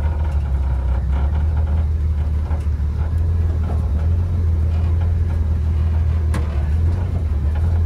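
An M37 vintage off-road wrecker truck rumbles steadily on a trail, its engine a constant low drone up close with faint rattles and creaks over the top and no talking.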